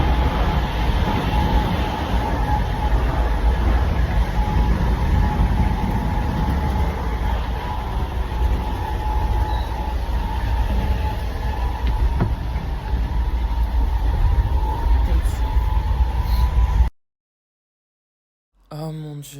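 A steady, loud rumble of rail travel fills the train carriage from inside, with continuous low roar and hiss for about seventeen seconds before it cuts to silence, then a brief return.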